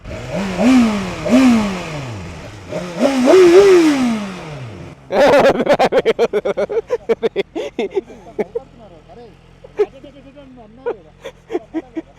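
A superbike engine, BMW S1000RR or Ducati Panigale V4S, rises and falls in three vocal-like swells, then settles into a rapid series of sharp, close, rhythmic blips.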